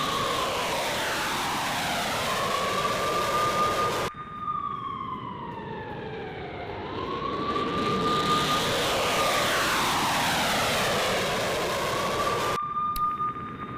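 Fighter jet engines roar loudly and continuously, with a rising and falling whine and a doppler-like sweep as a jet passes, strongly enough to resemble a siren at times.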